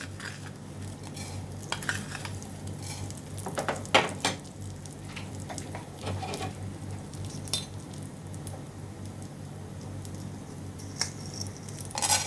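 Cumin seeds fry in gingelly oil for tomato rasam, giving a soft, steady sizzle broken by scattered clinks and scrapes of a stirring spoon in the pan, fairly quiet and without talk.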